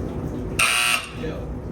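A signal buzzer for the mine shaft capsule at the Lackawanna coal mine gives one short, sharp, loud buzz that stands out over a murmuring background.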